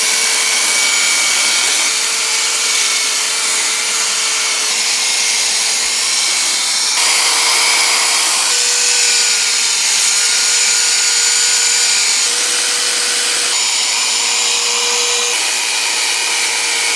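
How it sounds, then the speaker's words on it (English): Tube sander shaping a steel tube in a shop, a loud, steady high-pitched abrasive whine with a constant hum underneath, shifting slightly in tone every few seconds as the work is repositioned, no talk. "So we went ahead and busted Ted's tube sander back out to get that guy into a shape where we can weld some tabs onto it."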